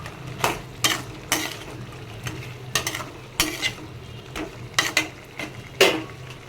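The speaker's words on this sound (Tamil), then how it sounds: "இப்போது இதில் இட்லிஸை போட்டுக்கலாம். போட்டு நல்லா மிக்ஸ் பண்ணிக்கலாம்." A spoon scrapes and clatters in a pan as idli pieces are stirred with paneer for home-style masala idli, a steady series of distinct close stirring strokes over a soft background sizzle.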